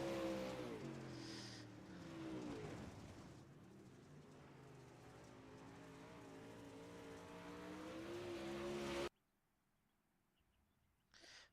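Race cars in a heat race circling a racetrack at night, engines droning and shifting in pitch as they pass, a steady roar that cuts off abruptly near the end.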